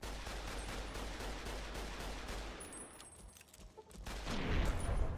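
Rapid fusillade from a survivalist rifle firing 12.7 rounds in Fallout, dense overlapping shots rattling steadily for about three seconds, a brief lull, then a heavy low boom near the end.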